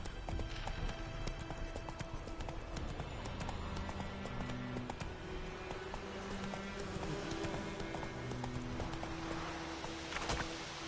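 Hooves of a horse in The Witcher video game clip-clop at a steady gallop over a music and ambient game soundtrack, rhythmic and fairly close, with no speech during the run.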